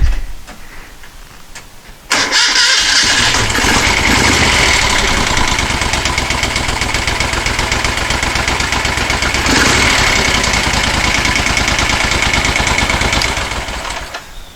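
A motorcycle with a freshly rebuilt Amal 930 carburetor is kicked over after about two seconds of quiet handling noise, then catches and settles into a loud, steady idle that runs continuously up close.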